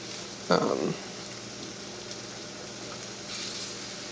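Fried rice sizzles in a large pot, a steady soft frying hiss with a short burst of louder scraping and stirring near the start.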